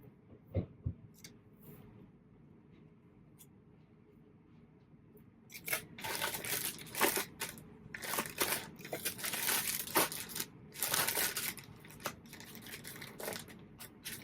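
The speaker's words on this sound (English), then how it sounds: "I'm just going to put some priority stickers on here so that they know for sure it's priority mail" Priority mail stickers are peeled and pressed onto shipping packages, making a run of close, loud crinkling and rustling bursts after a quiet start, with no talk.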